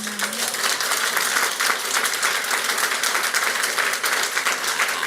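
Audience applause at a Baltimore City Public Schools meeting, a steady dense wash of clapping that holds at an even level throughout.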